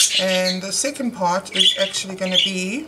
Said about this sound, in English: they're making a big racket